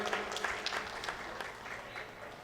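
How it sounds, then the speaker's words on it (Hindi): An audience at a mushaira, a gathering for Urdu poetry, claps to welcome the chairman, a soft, steady patter of many hands that carries on throughout and sounds somewhat distant. "ज़ोरदार तालियों से हमारे चेयरमैन साहब का इस मुशायरे में इस्तकबाल करें।"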